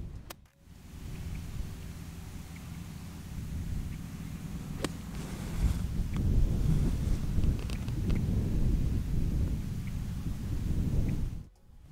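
Strong wind buffets the microphone on a golf course at Oak Island, a continuous low rumbling roar that swells and gusts without any talk.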